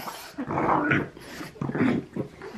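A dog close by growls low and whimpers in short, uneven bursts, with no talking over it.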